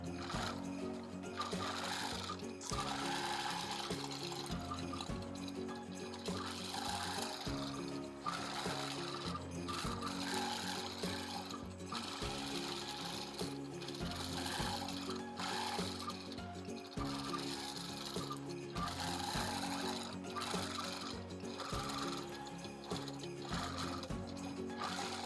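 A sewing machine free-motion quilts feathers and filler on a Christmas quilt, a steady close whirring hum with regular needle clatter running continuously, pausing briefly every few seconds as the stitching changes direction.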